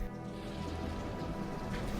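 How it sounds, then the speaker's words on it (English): Rain beating and splashing against windows on a wild, windy night, a steady dense hiss of rainfall as a radio drama sound effect, continuous and fairly loud with no voices. "the rain was beating and splashing against the windows"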